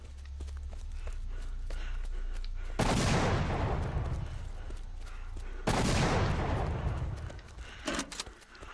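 Two loud, sharp gunshots ring out in the VR zombie shooter Into The Dead, each a broadband blast with a long decaying tail, spaced about three seconds apart over a steady low rumble, with a smaller crack near the end.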